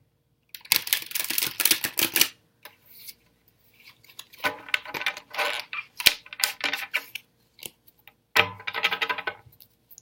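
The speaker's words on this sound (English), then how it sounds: "I'm going to do the usual drill of shuffling the cards." Bursts of papery riffling and tapping from cards being shuffled up close, coming in several separate rounds with brief pauses between.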